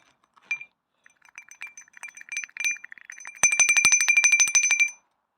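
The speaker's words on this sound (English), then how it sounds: "a school bell." A small dug-up school bell, dirty and with its top broken off, is shaken by hand, giving a run of light tinkling strikes that becomes a fast, bright, steady ringing for about a second and a half, then stops.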